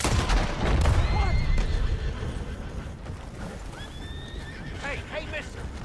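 A horse in Red Dead Redemption 2 whinnies and neighs several times, loud and close, along with clip-clop hoofbeats and rumbling game background sound.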